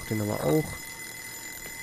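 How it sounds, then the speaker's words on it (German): In the video game Joe's Diner, an alarm clock rings with a thin, steady tone running through the whole moment, faint and constant, while a person talks briefly over its start. "das ist der Wecker"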